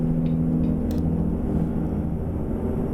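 Steady low engine rumble of trucks rolling along a fairly empty highway in American Truck Simulator, a continuous heavy drone with no distinct pass-by peaks.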